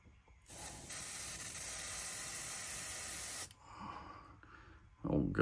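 A paint spray gun hisses steadily for about three seconds while coating a swimbait fishing lure, close and loud, then stops and gives way to quieter handling noises and a brief rustle.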